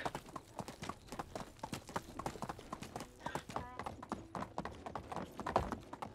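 Donkey hooves clip-clop in a steady rhythm during riding in the medieval village-building game Medieval Dynasty, fairly close and continuous, with faint talk underneath.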